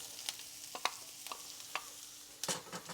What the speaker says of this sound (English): brown your green pepper and onion